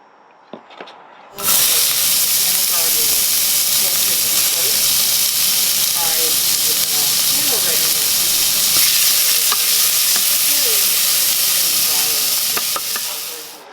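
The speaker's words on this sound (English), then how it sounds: "I'm going to bring that to a simmer" Tomato sauce with onion, garlic and bay leaf in a pot, which starts after a brief silence and then bursts into a loud, continuous hissing sizzle and bubble that holds steady, with faint stirring scrapes, no talk.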